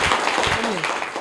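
Classroom applause for a student's correct quiz answer, a short dense burst of many hands clapping at once.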